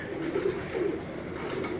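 Pure striped pigeons cooing on a rooftop, a soft, continuous run of low throaty coos repeating in a steady rhythm, fairly close, with no talking.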